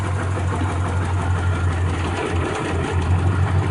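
A small engine's fuel injector clicks with a light, rapid tick, riding over a steady low idling engine hum that runs throughout without a break; close and fairly loud, with no talking.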